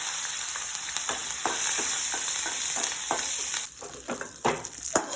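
Curry leaves and dried red chillies sizzle loudly in hot oil in a pan, a dense steady crackle with scattered sharper pops and stirring clatter, growing choppier toward the end.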